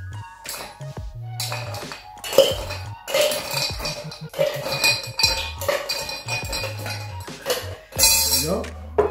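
Ice cubes clatter and clink into a metal cocktail tin for a shaken mezcal drink with maraschino liqueur and lime juice, a string of close, bright rattles and knocks with brief pauses and low thumps between scoops.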